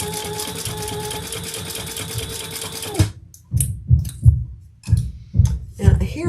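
A sewing machine top-stitches a Louie waist pack in a fast, even whir of needle clatter for three seconds, then stops and gives way to a string of separate thumps and clicks.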